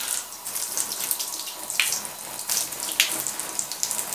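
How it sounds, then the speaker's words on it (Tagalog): Water runs steadily from a tap into a bathtub, a close, continuous splashing hiss with occasional louder gushes and no talking. "Let's adjust the temperature of the water."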